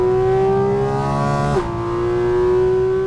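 Loud Ferrari engine drone with steady harmonics, dipping briefly midway then resuming, heard from inside the cabin with a harsh, resonant tone like a stripped-out cup car and no talking.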